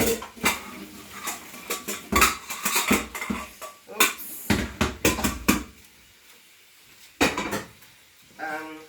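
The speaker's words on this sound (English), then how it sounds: "I'm going to strain the pasta over here" Pots, pans and cutlery clatter and knock in a kitchen sink while pasta is strained, a run of sharp irregular bangs and clinks that thins out into sparser knocks near the end.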